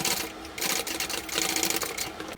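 A sewing machine topstitches the seams of a bucket bag in short rapid bursts, the needle chattering up close with brief pauses between runs.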